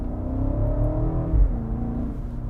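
A 2023 BMW X7 M60i's 4.4-liter turbocharged V8 accelerating in Sport Plus mode, a steady low engine drone with rising harmonic tones that swell and shift, heard from inside the cabin without talking.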